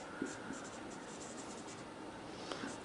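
Handwriting on paper during an accounting lesson: soft scratching pen strokes with a few light taps, close and steady for about three seconds, with no speech over it.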